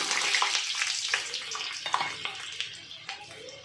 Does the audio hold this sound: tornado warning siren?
no